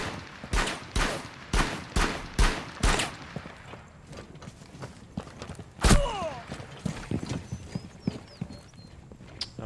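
Gunfire in the tactical shooter Rainbow Six, with an FAL rifle in play: a quick run of sharp, loud shots opens, then one heavy blast midway, followed by scattered lighter clicks and impacts.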